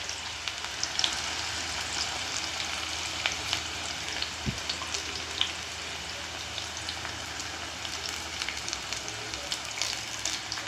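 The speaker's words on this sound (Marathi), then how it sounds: "कांदा असं व्यवस्थित मोकळा करून टाकायचा, जेणेकरून तो व्यवस्थित तळला जातो" Chopped onion frying in a pan for handi chicken curry, a continuous dense crackling sizzle like light rain, steady and close throughout, with a few faint clinks and no speech.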